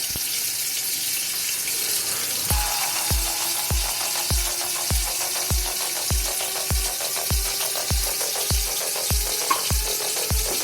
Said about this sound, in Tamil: இப்போ ப்ரௌன் கலரில் வந்து வெங்காயம் இது மாதிரி வதக்கி எடுத்து வச்சுக்கோம்.